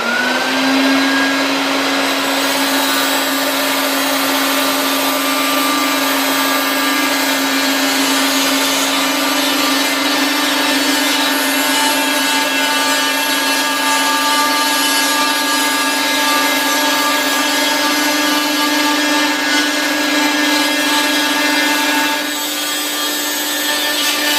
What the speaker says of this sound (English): I'm going to use the vacuum cleaner simultaneously so that I don't make a mess out of this here.